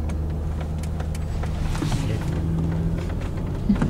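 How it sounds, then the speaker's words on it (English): A Mercedes-Benz GL 350 in low reduction gear climbs an off-road course at about 1500 RPM, its engine a steady, moderately loud drone heard close up with faint knocks from the terrain. "So with that, I climb comfortably at about 1500 RPM."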